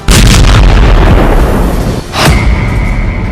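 A loud, heavy explosion on the Crimean Bridge booms and rumbles, followed by a second burst and a lingering high tone as the blast fades.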